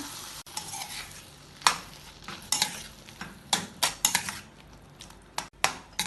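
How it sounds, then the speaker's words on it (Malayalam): A spoon stirs turnip masala in a pan, scraping and clinking in irregular strokes over a steady low sizzle of sautéing, close and fairly quiet with no talk. "ഒന്ന് ഇളക്കി കൊടുത്ത ശേഷം 1 മിനിറ്റ് ഇളക്കി വഴറ്റാം"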